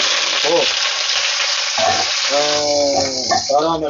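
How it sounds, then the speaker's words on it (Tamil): Ingredients for a brinjal and cowpea kuzhambu roast in a pan with a loud, continuous close-up sizzle, and faint vocal sounds rise briefly over it near the end. "இது சூப்பராக வறுக்கணும் தீய விடாமல் வறுக்கணும்"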